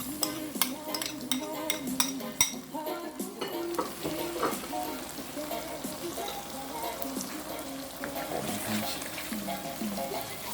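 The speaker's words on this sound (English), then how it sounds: "So I mix some flour, yes, with some broth, and this." A spoon stirs flour and broth in a pan while cooking Jamaican fried chicken, giving repeated scraping and clinks over a soft sizzle, steady and close for about ten seconds.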